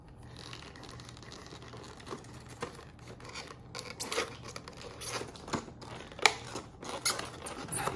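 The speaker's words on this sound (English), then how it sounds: "We got a knife, and we're gonna just try to cut through some of this tape." A knife cutting through packaging tape on an action figure box, quiet crinkling and scraping that grows into sharper rips and snaps toward the end, close by and with no talking.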